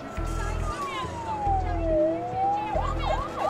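An ambulance siren wails and then switches to a rapid yelp, loud and continuous, with a low rhythmic pulsing underneath and talk running over it.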